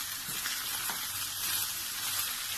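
Green chillies and minced keema sizzle steadily in a karahi, a continuous bright frying hiss with a few soft stirring knocks, close and moderately loud, and no talking.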